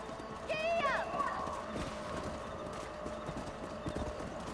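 A horse in the Red Dead Redemption video game whinnies, then its hooves clip-clop in a steady gallop, close and loud.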